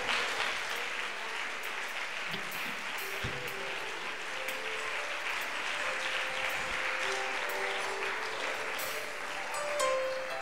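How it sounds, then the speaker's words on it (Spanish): Sustained applause from a church congregation fills a large room, steady clapping throughout with a few faint voices and tones mixed in. "Un aplauso al Señor"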